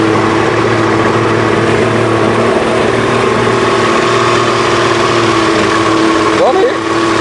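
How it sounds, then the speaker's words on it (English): A ferry's engine drones steadily as the ferry arrives, a loud, continuous low hum and mechanical whir with layered tones, with faint voices in the background. "Waiting for the ferry. Ferry arriving."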